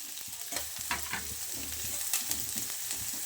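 Onions, green chillies and curry leaves sizzle in hot oil in a pan for mushroom gravy, a steady close frying hiss broken by spoon scrapes and stirring clicks.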